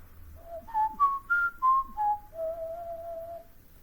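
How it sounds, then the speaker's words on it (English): A single person whistles a clear rising and falling arpeggio, six short bright notes ending on one long held tone, close and alone in a quiet room. "I have no rhythm but I can whistle an arpeggio."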